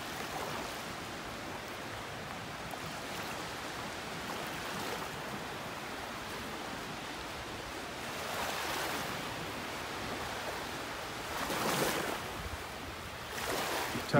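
Surf rolling onto a Southwest Florida Gulf beach during a red tide outbreak, with the tide going out; a steady broadband wash with gentle swells of louder breaking waves, no voices.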